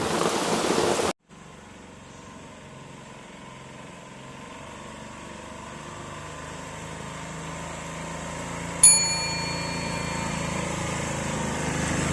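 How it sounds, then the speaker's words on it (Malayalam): Heavy rain falls in a forest near Pooyamkutty and Mamalakandam, a soft steady hiss that builds slowly after an abrupt loud burst at the start, with a sharp crack partway through. "പൊരിഞ്ഞ മഴയായിട്ടാ നമ്മുടെ കാട്ടില് കണ്ടാ, അപ്പാര മഴയും കാര്യങ്ങളാ."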